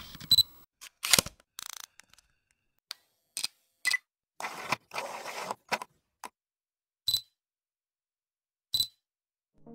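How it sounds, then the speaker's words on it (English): A camera focus sound effect plays as a series of short, crisp mechanical clicks and whirs, scattered irregularly and separated by silence, fairly quiet and with no voices. "For the zoom in motion, I'm gonna use a camera focus sound effect."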